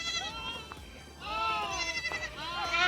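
Goat kids bleating while suckling from their mother after she returns from a day of grazing; several close, wavering bleats overlap, growing louder toward the end, with a person talking nearby.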